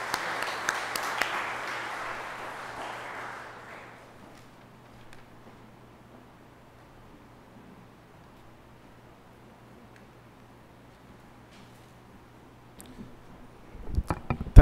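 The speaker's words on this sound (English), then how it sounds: "Shall we give him a round of applause?" A church congregation applauds at a Sunday morning worship service, a fairly loud wash of clapping that fades over about four seconds into near silence, with a faint low hum beneath and a few soft knocks near the end.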